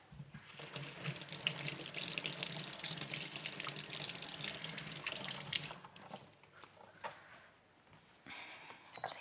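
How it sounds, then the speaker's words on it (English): A kitchen tap runs steadily for several seconds with splashing as lemongrass is rinsed beneath it, then shuts off, leaving soft handling noises. "So I will just run this to the water so it's not so hard to chop."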